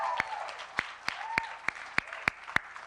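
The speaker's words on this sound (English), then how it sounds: "Can I have a round of applause for these amazing women?" Applause at a Trailblazing Women reception, a soft bed of scattered crowd clapping beneath a run of louder, crisp close claps landing roughly every third of a second, with faint murmuring voices under it.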